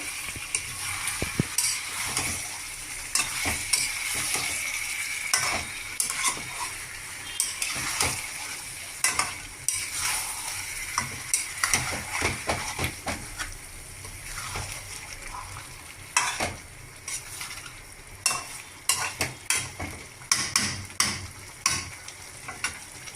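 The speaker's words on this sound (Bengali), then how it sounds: "এখন আমি এটা ভালোভাবে মশলাটা দিয়ে মাংসটাকে কষবো।" Chicken frying with spices in a pan while being stirred, irregular scraping and clattering strokes over a soft continuous sizzle, close-up and moderately quiet, no talking.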